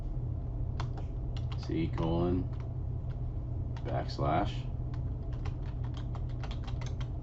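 A computer keyboard clacks as a command is typed, with scattered quick keystrokes over a steady low hum while someone speaks briefly between bursts.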